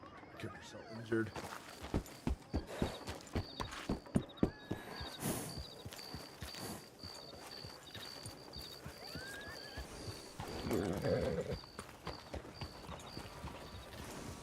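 A horse in a ranch roleplay game clip-clops along in steady hoofbeats, with a short whinny partway through, while a person talks over it throughout.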